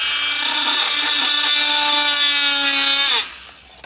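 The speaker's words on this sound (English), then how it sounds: "plug in your little oscillating tool or Dremel or what have you, and we're just gonna" An oscillating multi-tool cuts through Pergo Outlast laminate flooring, a loud, steady high-pitched buzzing whine that runs continuously for about three seconds, then winds down and stops abruptly.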